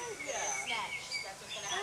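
Several jungle birds chirp and whistle in overlapping high calls, moderately faint and continuous across the short stretch, with a voice briefly present.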